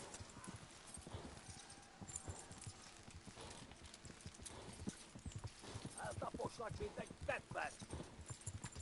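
Horse hooves clip-clop in a steady rhythmic gait in the Kingdom Come Deliverance video game, mixed with in-game ambience and occasional speech, growing somewhat louder toward the end.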